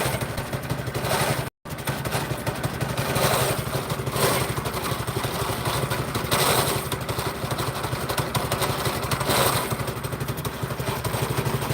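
Engine of a 1981 Ford F-150 pickup with a 302 V8, running steadily with a rough, rhythmic clatter, close and loud throughout, one brief dropout early on.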